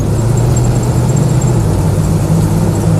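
A Land Rover Lightweight V8i with a Range Rover automatic gearbox and transfer box runs loud and close, its V8 engine throbbing in a steady low rumble with a faint high whine on top.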